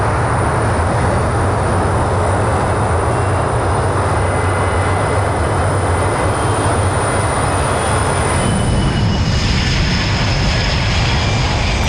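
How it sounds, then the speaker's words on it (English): A Boeing 777 airliner departing Hong Kong International Airport, a loud, steady, broadband engine roar that fills the whole stretch, with a high whine shifting slightly near the end. "And just minutes later, the plane is on its way to Beijing."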